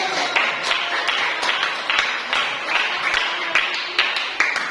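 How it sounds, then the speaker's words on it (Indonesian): A classroom audience applauds after a school mathematics presentation, steady clear claps in a regular rhythm, fairly close and alone. "Beri tepuk tangan."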